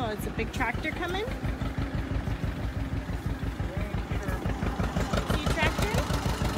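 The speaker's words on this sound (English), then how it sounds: "I know, it's a big tractor coming." A big tractor engine rumbles nearby in a steady, pulsing chug that runs through the whole stretch, with adults and children talking over it outdoors.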